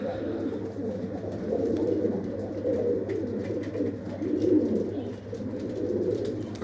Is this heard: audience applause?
no